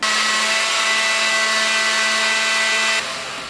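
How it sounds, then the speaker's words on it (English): Blender mixing sugar, eggs and flour into a batter: a loud, close, steady high-pitched motor whine for about three seconds, then it cuts off and spins down. "we're going to turn that on and get that all mixed up until it's nice and smooth"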